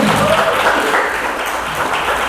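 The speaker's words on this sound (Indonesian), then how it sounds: "Tepuk tangan dulu." An audience at a literary talk in Medan breaks into sustained, dense applause, loud and continuous throughout, with a voice faintly underneath.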